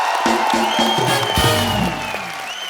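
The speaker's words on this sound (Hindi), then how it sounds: "शाहरुख भाई के लिए जोरदार तालियां।" A studio audience at The Kapil Sharma Show claps and cheers loudly for Shah Rukh Khan, a dense burst of applause with whoops that holds strong, then eases slightly toward the end.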